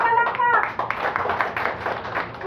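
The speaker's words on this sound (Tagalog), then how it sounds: "Usog na palakpak." Hands clap in a church gathering about godly marriage, a quick run of claps with a few voices murmuring over it, moderately close and fairly loud.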